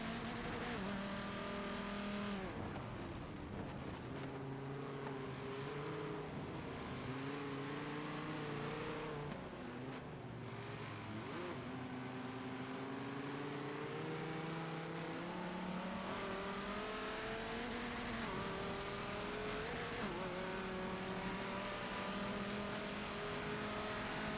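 Race car engines, including a Viper, roar and rev in close racing with cars sliding sideways and spinning tires, a loud continuous whine rising and falling in pitch, no talk.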